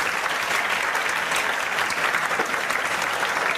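An audience bursts into loud, steady applause at a Hindi-language felicitation event honoring people selected for police, BSF and health-worker jobs, the clapping dense and continuous throughout.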